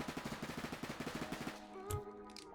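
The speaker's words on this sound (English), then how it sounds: "it's an SMG, 30 bullets in the mag, and let's test the recoil out" An SMG fires in a rapid, even burst in the Roblox game Jailbird, about a dozen quick shots lasting roughly a second and a half before cutting off, followed by a short metallic click and soft game sounds.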